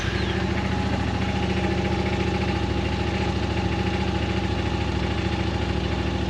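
The 1000 engine of a 2024 Yamaha Wolverine X2, fitted with a Weller Racing blockoff plate, idles steadily and loudly up close, a constant rhythmic rumble with a faint whine on top.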